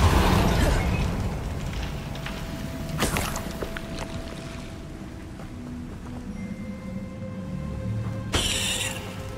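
A Bombarda explosion spell goes off in the Hogwarts Legacy video game, with sharp blasts near the start and end over a dense, rumbling game soundscape, and no talking.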